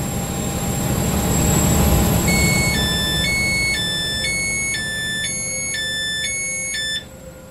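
In the Roblox game Stepford County Railway, a train rumbles into a platform at Stepford Central, a low steady roar overlaid by a repeating pattern of high electronic beeps before the noise drops off abruptly near the end.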